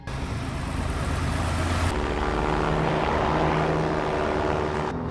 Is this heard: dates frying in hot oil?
no